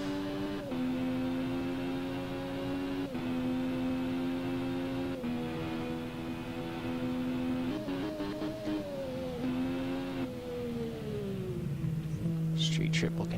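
A Triumph Street Triple motorcycle ridden in a blizzard drones steadily, its engine pitch stepping and sliding with gear changes, while a voice speaks now and then.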